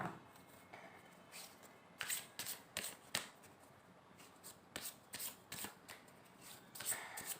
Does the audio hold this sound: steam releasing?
no